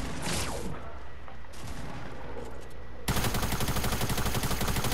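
Rapid submachine-gun bursts and gunfire in a Fortnite match, loud and sustained, with a sudden heavier burst of automatic fire that swells in the closing seconds.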